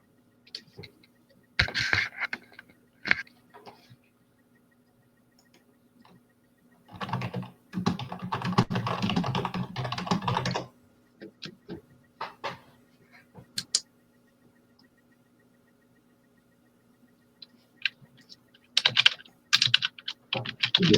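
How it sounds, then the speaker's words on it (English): Bursts of computer keyboard typing heard over an online call, clicky keystrokes in separate clusters with quiet gaps between, fairly close, no voices. "I can hear Sabine typing."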